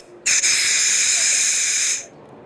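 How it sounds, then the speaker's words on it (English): An aerosol-can snort-wheeze deer call lets out a single loud, sharp hiss that starts abruptly, holds steady for nearly two seconds, then cuts off cleanly. "We're really excited about the snort wheeze, one of the only products out here that works off an aerosol can."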